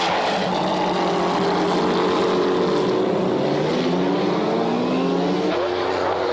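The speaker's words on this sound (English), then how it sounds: "the number 3 Gulf GTR of Rafanel goes out to try to claim pole position from the other McLarens" Number 3 Gulf McLaren GTR race car on a qualifying lap at Jerez in the BPR Global GT Series, a continuous loud engine howl with shifting pitch as it passes, heard alone without talk.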